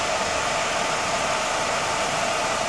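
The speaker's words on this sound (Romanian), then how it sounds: "Vă spuneam adineauri și de sunetul pe care îl face acest ventilator de la încărcător." The cooling fan of a LiTime battery charger, used with a 12V 100Ah LiFePO4 battery, runs as a steady, even airy whir heard up close with no break.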